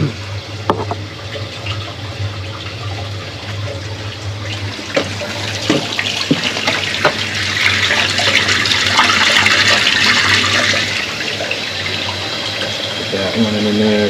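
Water rushes steadily down a freshly cleared main drain, a continuous splashing flow that swells in the middle over a low background hum, with a voice speaking briefly.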